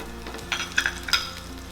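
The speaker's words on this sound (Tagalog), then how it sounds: "Then we will saute the garlic" Garlic sautés in oil in a pan, a soft steady sizzle with a few brief spatters and stirring scrapes, close and quiet, with no talk.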